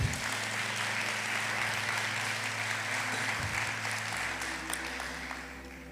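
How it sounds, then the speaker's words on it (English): An audience at a talk on mental health and substance use applauds the speaker, a full, steady round of clapping over a low hum that gradually tapers off. "You can applaud me because it's so difficult."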